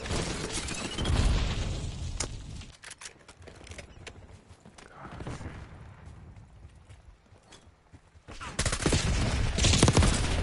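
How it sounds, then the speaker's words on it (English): Gunfire in a first-person shooter match with grenades and spring mines, loud bursts of shots at the start and again near the end, a quieter stretch between, with voices and game chatter running under the shooting. "I'm shooting you"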